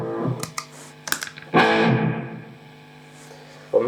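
An electric guitar runs through an MXR Carbon Copy analog delay pedal for a dark, heavy metal tone, with plucked distorted notes and a sustained chord trailing off into murky repeats.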